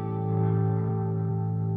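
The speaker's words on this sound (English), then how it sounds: "This would give us a dominant chord, which sounds something like this." A dominant seventh chord rings out on electric guitar with light effects and echo, sustained and steady at a moderate level, close up and alone.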